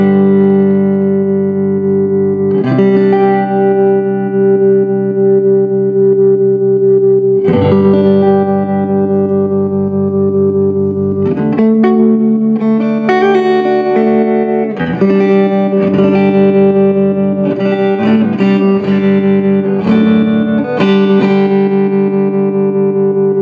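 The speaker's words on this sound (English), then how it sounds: "Reverb works, tremolo works as well." Electric guitar played through a 1966 Fender Deluxe Reverb amplifier with its reverb and tremolo on, ringing sustained chords and notes that swell and pulse with a wet, echoing tail, loud and close with no talking.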